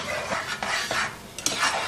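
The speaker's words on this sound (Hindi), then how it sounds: "अब इसको चम्मच चलाते हुए पकाएंगे" A spoon stirring saffron semolina halwa in a pan: close, soft scraping strokes in an uneven rhythm with a faint sizzle of ghee underneath and light metallic clinks, no speech.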